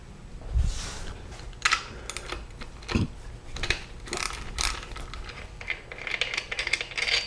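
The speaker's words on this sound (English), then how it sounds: "I'll take the bolts off and we'll remove the cap." Bolts loosened and pulled from a main bearing cap on a 5.0L OHV Ford V8, a run of sharp metallic clicks, ratcheting and clinks close by, coming in irregular bursts with no talking.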